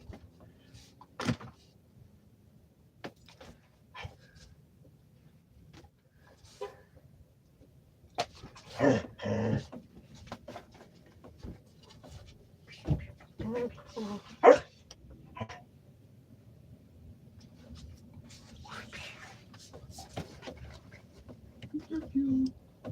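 A young puppy gives scattered short barks and whimpers with some panting, alongside a person speaking softly nearby.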